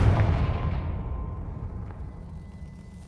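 A fiery blasting spell in the video game Hogwarts Legacy, one sharp explosive burst at the start followed by a rumbling low tail that slowly fades over a few seconds.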